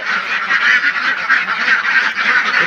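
A domestic duck honking loudly and repeatedly at close range, harsh nasal calls in a rapid continuous series.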